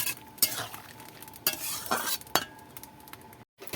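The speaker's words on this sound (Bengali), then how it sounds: "উচ্ছেগুলো ঢেলে দেবো উচ্ছেগুলো দিয়ে একটু নাড়িয়ে নেবো" Bitter gourd being stirred in a frying pan for a vegetarian bitter gourd and eggplant dish, a quiet sizzle under several sharp spatula scrapes and clinks against the pan, ending in a brief silence.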